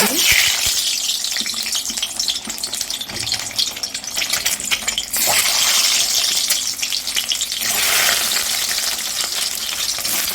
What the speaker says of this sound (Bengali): ডিমগুলো সব আমি একদম লাল লাল করে ভেজে নেবো